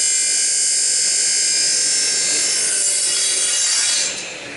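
A power saw blade cuts through a piece of wood in a workshop, a loud steady high-pitched whine that holds for about four seconds before easing off at the end, with no talking.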